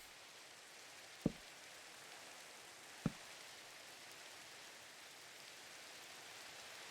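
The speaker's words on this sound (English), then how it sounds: "And it's raining." Steady, faint Minecraft rain hisses evenly from start to finish, broken by two sharp isolated clicks a couple of seconds apart.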